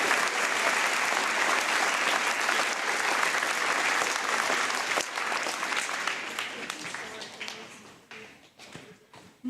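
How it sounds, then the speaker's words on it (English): A large crowd in a school gym applauds veterans at a Veterans Day program, with loud, dense, sustained clapping that slowly fades away near the end. "Let's give a round of applause for our veterans."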